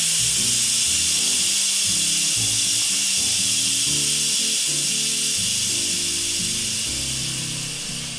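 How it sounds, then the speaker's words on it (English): Steam blasts loudly and steadily from the release valve of an Instant Pot DUO60 6-quart electric pressure cooker, a broad continuous hiss lasting the whole stretch and fading only slightly at the end, with no talking. "to quickly and carefully flick this to venting"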